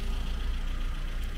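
A Mitsubishi car with a repaired CVT gearbox on a road test: a steady low engine and road drone heard from inside the car, even and unbroken.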